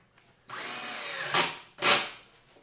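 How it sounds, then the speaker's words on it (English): A power drill bores holes into the wood of an 8-foot workbench under construction, whining steadily for about a second before two shorter, louder bursts of drilling. "I'm gonna have to switch bits and just use the drill so that I don't make all the impact driver noise."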